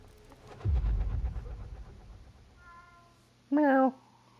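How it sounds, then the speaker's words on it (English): A cat in Assassin's Creed Mirage gives one clear, close meow near the end, after a low rumbling game soundscape with faint chirps and background noise. "Meow. Kitty cat."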